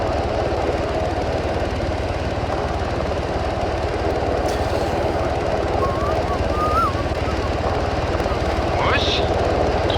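A steady, droning helicopter rotor and engine noise fills the background while French soldiers talk over it during a military mission.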